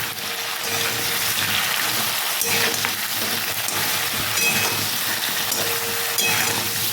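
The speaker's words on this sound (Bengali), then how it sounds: "আরও একটু এইভাবে কষিয়ে নেব বেগুনটাকে" Large chunks of brinjal sauté in a pan for shukto, making a loud, steady sizzling hiss with occasional soft clinks and stirring sounds, close up and without speech.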